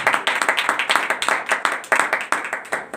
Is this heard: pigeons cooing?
no